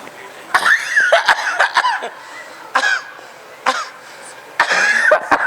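A man coughs repeatedly in an indoor stage scene: several short, sharp bursts in uneven clusters, close and fairly loud, with brief voiced sounds between them.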